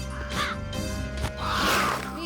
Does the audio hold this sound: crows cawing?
yes